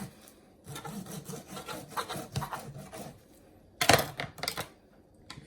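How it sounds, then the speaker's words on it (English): A knife saws through a rack of smoked ribs just above the knuckle, heard as close rasping strokes in an uneven rhythm, growing louder toward the end, with no talking. "I'm just gonna go ahead and start cutting this right above that knuckle."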